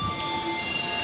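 Train at a railway station, a steady rumbling rail noise with sustained high tonal whines and squeal-like lines running throughout, fairly quiet and continuous with no voices.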